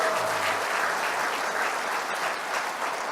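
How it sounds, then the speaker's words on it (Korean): An audience at a political party rally in Daejeon applauds for the party leader, a dense, steady burst of clapping from a large crowd with no voices on top. "우리 홍준표 대표님에게 큰 격려의 박수 한번 다시"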